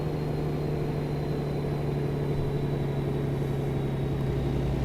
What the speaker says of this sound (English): really love the turbo sound